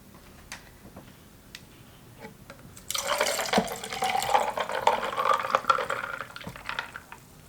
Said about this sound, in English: now I'm just gonna pour the tea into the tumbler now that it has ice